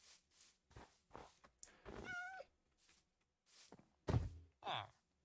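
Cat meowing in Minecraft, a short rising-falling meow among game sounds with thumps, with a person talking around it.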